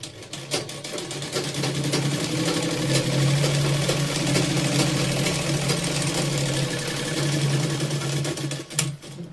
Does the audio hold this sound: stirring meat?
no